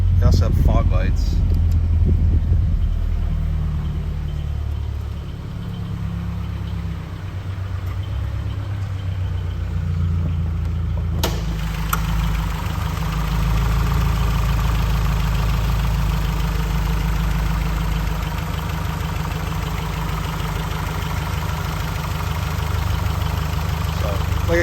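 A 2013 Scion FR-S with a freshly serviced engine idles steadily with a low, slightly clattery hum, and a short click is heard partway through.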